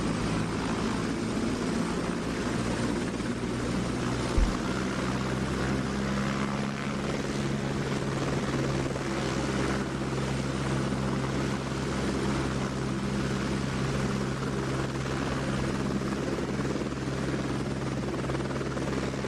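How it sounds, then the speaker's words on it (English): Helicopter flight in a video game: a steady, loud rotor and engine drone holds throughout, with a low pulsing hum and one brief thump partway through, no voices. "Apparently we're on a helicopter now."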